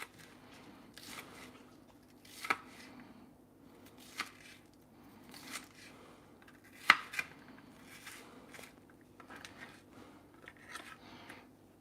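A knife dices food on a board in a home kitchen, giving sparse, irregular, fairly faint taps and clicks with a few sharper knocks and quiet gaps between them.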